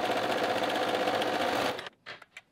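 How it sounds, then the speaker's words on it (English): A sewing machine stitches super stretchy fabric in a steady, close, fast whir that stops abruptly, followed by a few soft handling clicks. "it's pulling the fabric as you're sewing"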